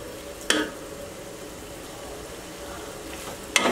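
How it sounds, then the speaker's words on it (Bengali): Beef biryani ingredients stirred in a pot over a quiet, steady sizzle, with two brief scraping clanks of the spoon against the pot several seconds apart. "সবগুলো উপকরণ একটু ভালো মতো মিশিয়ে নিই"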